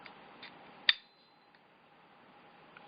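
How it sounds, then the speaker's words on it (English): A revolver's hammer drags across the top of the tube while the gun is cocked, making one faint, sharp metallic tick followed by a few tiny clicks in a quiet room. "the hammer dragging on the top of this tube."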